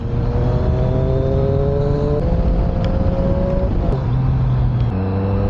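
A 2020 Triumph Street Triple R 765 motorcycle accelerates hard through several gear changes, its loud, close engine note climbing and dropping in steps over constant wind noise.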